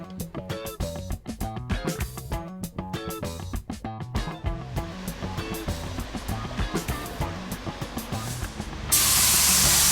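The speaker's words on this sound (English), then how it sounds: "Just keep spraying the flake so you're happy with the coverage" Spray gun hissing as it lays down a coat of metal flake paint, a loud steady rush that starts abruptly near the end, after a stretch of background music.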